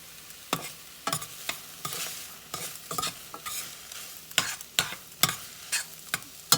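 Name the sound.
butter melting on hot drained ramen noodles in a pan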